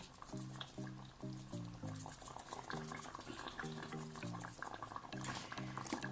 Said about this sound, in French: Je vais laisser mijoter le tout, refermer et laisser mijoter.